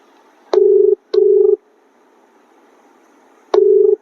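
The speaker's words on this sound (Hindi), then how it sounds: "फोन करने के बाद इससे हम सवाल करना चाहते हैं, लेकिन देखते हैं उठाता है कि नहीं।" An outgoing phone call rings on the line as a steady low tone pulsing in a double burst, a pause, then another burst, each about half a second long, clear and loud with no voices.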